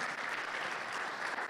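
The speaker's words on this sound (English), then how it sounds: "Please applaud these ladies and gentlemen" Conference audience at an Accelerate Africa demo day applauds steadily, a dense and even wash of clapping hands that stays at a constant, moderate level throughout.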